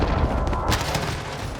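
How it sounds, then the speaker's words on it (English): A precision airstrike explosion in a shooter video game, a heavy booming blast with dense rumbling gunfire-like impacts that stay loud throughout the short burst. "Friendly precision airstrike on the way."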